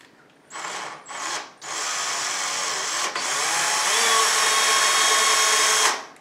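A power drill bores a hole for a cabinet drawer pull, starting with a few short bursts, then running in a steady whine that rises slightly in pitch before stopping abruptly.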